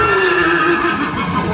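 A horse at a brewery's stables whinnies loudly and close by, one sustained neigh with a wavering pitch that fades toward the end, with no talking.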